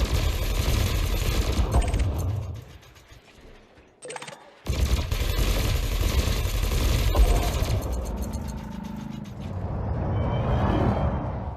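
A spaceship's cannons and lasers fire in Elite Dangerous, a steady rattling barrage that drops briefly, then resumes loud and continuous under engine hum.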